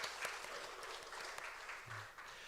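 Congregation in a Korean church service clapping together in applause, a dense, fairly faint patter of many hands continuing throughout without a break.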